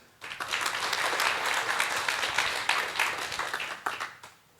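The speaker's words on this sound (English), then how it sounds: "huge round of applause for the entire team of VASAI branch" Audience applause for the Vasai branch team at a professional branch event, a burst of dense clapping that rises quickly, holds steady for a few seconds and then tapers off, with no talk over it.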